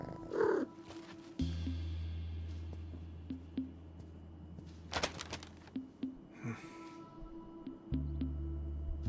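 A cat purrs steadily in the As Dusk Falls video game, a low continuous rumble heard up close, with a few brief higher sounds over it.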